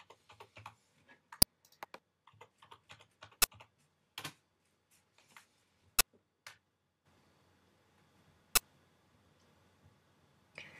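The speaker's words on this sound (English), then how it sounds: "and enter a password." Typing a password on a Mac keyboard, a quiet, close series of scattered key clicks with several sharper louder taps spaced across the stretch and pauses between bursts.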